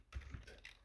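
Quick keystrokes on a computer keyboard while writing Flutter code, a short close burst of a few taps with no talking.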